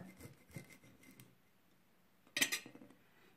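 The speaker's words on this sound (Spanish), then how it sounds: "Y lo van a frotar por todas las tijeras." A halved garlic clove rubbed along a pair of scissors, giving soft scraping strokes early on and a short, louder rasping burst near the end, close and fairly quiet.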